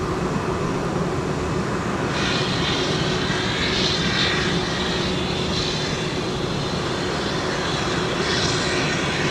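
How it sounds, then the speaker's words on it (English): A Delta airliner bound for San Diego roars on departure at Minneapolis–Saint Paul airport, a loud continuous broadband jet rumble holding steady throughout with a faint tonal whine on top. "This is Delta Flight 2146 off to San Diego, California."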